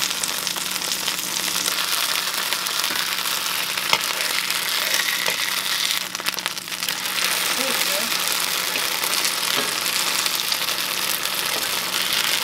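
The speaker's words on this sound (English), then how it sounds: "you're really just browning it on each side and heating it through" Slices of already-cooked cornmeal mush fry and brown in a pan, giving a steady, close sizzle with crackling that holds for the whole stretch, sometimes with faint talk beneath it.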